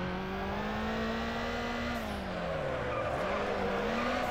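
A car drifting in the video game Need for Speed Underground, a sustained engine drone with long tire squeal that bends in pitch as it slides through a turn, loud and steady without talk.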